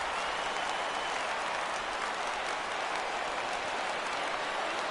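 Crowd of over 39,000 cheering and applauding steadily in a baseball video game's stadium setting, a dense, continuous roar with no break and no talk over it.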